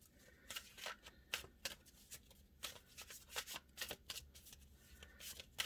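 Soft, repeated riffling and snapping of a tarot deck being shuffled, quick bursts of card flicks in an irregular rhythm, close and fairly quiet, with no talking.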